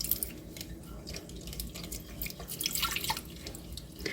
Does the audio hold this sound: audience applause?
no